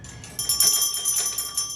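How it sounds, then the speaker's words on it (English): A pet parrot rings a small bell, giving a quick series of bright, ringing metallic dings with sustained high tones, close and clear with no talk. "researchers describe teaching 18 pet parrots to ring a bell."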